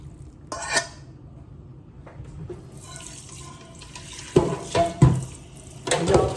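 Tap water runs into a sink with splashing and a few clinks of dishes, growing louder toward the end.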